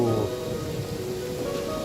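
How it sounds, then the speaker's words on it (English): A heavy downpour in the game Genshin Impact gives a continuous dense rain hiss beneath soft held music notes, steady throughout and without speech. "This heavy rain must be quite an inconvenience for you."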